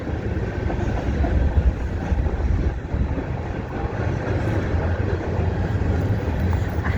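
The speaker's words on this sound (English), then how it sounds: "There's a train just coming by." A train rumbles past near the depot in Walnut Grove, a loud, continuous roar of wheels and engine with wind buffeting the microphone throughout.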